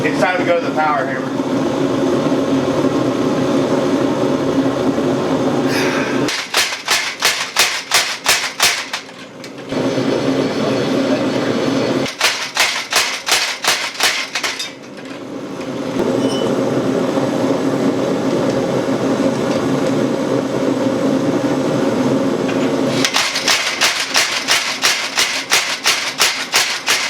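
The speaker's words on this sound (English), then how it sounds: "It's time to go to the power hammer." A blacksmith's power hammer with fullering dies forges a hatchet, sounding as three loud bursts of rapid, evenly spaced pounding blows close by, with a person talking in the gaps between runs.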